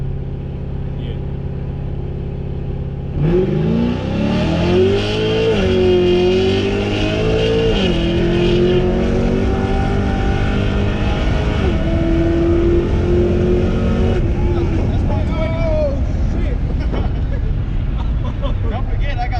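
A 2009 Pontiac G8 accelerates hard on sticky tires during a high-speed pull, its engine note rising steadily and loud from inside the cabin, with occupants talking and exclaiming over the roar.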